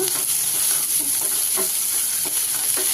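Large-cut onions fry for a tamarind stew in a steady, close sizzle, with soft stirring scrapes now and then.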